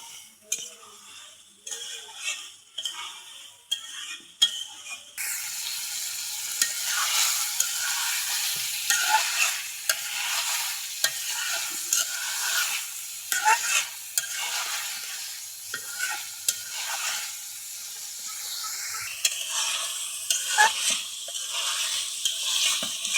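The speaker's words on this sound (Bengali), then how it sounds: "আমি এটা আর একটু কষাই নেবো, আমি কিন্তু অনেকক্ষণ ধরে কষাইছি" Goat meat being stir-fried in a pan as kosha, a steady close sizzle with repeated scraping and clinks of a spatula stirring against the metal, continuous throughout with a quieter start before the frying grows loud.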